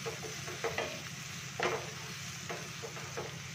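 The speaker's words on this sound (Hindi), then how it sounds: "तो प्याज को हम ब्राउन करेंगे।" Chopped onions for a matar mushroom masala sizzle in a pan while a spoon stirs them, adding soft scraping clatters over a steady frying hiss.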